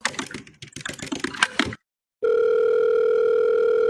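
A telephone call is placed: a person talks briefly, a short silence follows, then a steady loud tone, like a ringback or dial tone, plays on without pause.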